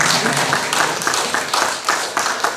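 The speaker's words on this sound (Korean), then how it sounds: "함께 서서 박수 한번 쳐주시면" A church congregation standing during a Korean Parents' Sunday service claps together in a steady, dense round of applause, with some voices mixed in.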